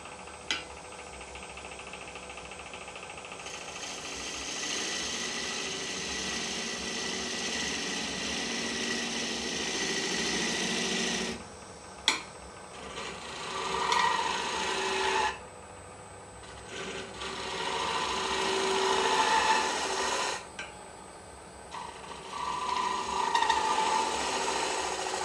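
A bowl of dry ebony mulberry wood spins on a lathe under a steady motor hum, while a tool scrapes and rasps away fine shavings in long passes broken by short pauses.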